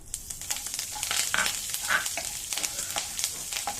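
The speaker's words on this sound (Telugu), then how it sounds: "కరివేపాకు వేస్తాను" Curry leaves sizzle in hot ghee for a tempering, a close, steady crackling fry with small sharp pops scattered throughout.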